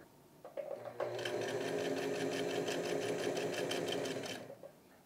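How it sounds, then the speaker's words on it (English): A sewing machine top stitching along the edge of a collar with stays, starting after a few clicks and then running at a steady fast whir for about three seconds before slowing and stopping. "Now, top stitching right along the edge"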